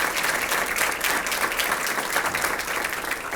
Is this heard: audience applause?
yes